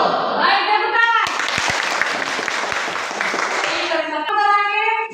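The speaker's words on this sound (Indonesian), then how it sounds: "Baik, tepuk tangan." A classroom full of students breaks into loud, dense applause lasting a few seconds, framed by children's voices talking before and after.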